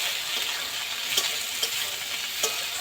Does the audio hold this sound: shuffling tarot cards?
no